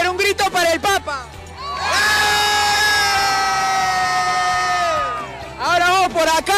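A large crowd in Peru cheers and shouts for Pope Francis during his 2018 visit, a loud sustained roar that rises and holds for several seconds between bursts of chanting.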